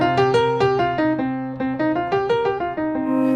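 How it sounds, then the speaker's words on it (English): A run of five pentatonic-scale notes played on a harmonically rich instrument, each note struck in steady succession and ringing into the next, loud and close with no voices. "that's the pentatonic scale. That's the sound of the blues."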